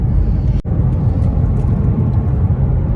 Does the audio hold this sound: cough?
no